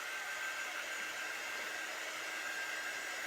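A handheld dryer blows on freshly painted craft decor, a steady, even hiss of rushing air held close and constant throughout with no other sounds.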